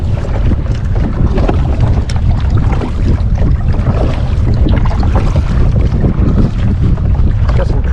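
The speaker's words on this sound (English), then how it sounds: "Pretty good waves out here." At sea off Tybee Island, Georgia, wind buffets the microphone while waves slosh around a kayak, producing a loud, continuous roar with splashy bursts and no break throughout.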